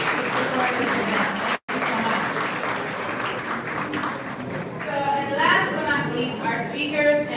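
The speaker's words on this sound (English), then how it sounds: "Can we please give them a round of applause?" Audience applause at an awards gala, a dense steady wash of clapping from a large crowd, loud and sustained, with a brief cut near the start.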